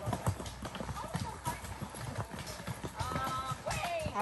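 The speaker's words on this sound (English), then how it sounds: "You pass horses, you gotta be careful with where you step on the trail." Horses' hooves clip-clop along a hiking trail in Lost River State Park, West Virginia, in a steady uneven rhythm, while a person talks over them.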